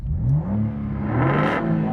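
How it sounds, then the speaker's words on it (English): Ford Mustang V8 and BMW M2 Competition revving together, a loud close engine roar that climbs and swells in pitch over under two seconds, no voices. "rev your car while I'm revving mine"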